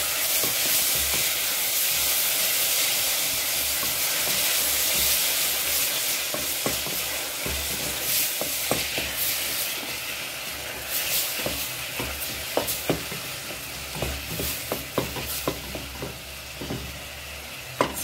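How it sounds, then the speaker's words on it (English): Tomatoes frying in a pan over browned onions and garlic for a soft fried liver dish, with a steady hiss of sizzling and scattered stirring clicks and scrapes that grow busier toward the end, close and fairly loud with no talk. "after our onions are brown in color and the garlic, we add our tomatoes."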